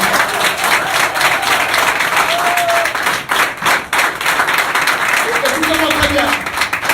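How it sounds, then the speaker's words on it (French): A church congregation claps and cheers for the Lord in a dense, continuous wave of applause, with voices calling out and a speaker talking over the crowd. "Acclamez pour le Seigneur"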